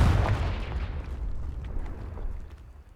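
A Confringo spell blast goes off in Hogwarts Legacy on PlayStation 5 as a deep, booming explosion that starts loud and close, then rolls into a rumbling decay that fades over a few seconds.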